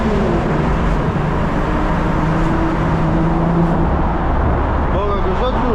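A 1988 Chevrolet Camaro IROC-Z rolls through a road tunnel, its engine and tyre roar booming loud and constant off the walls, with voices talking over the noise.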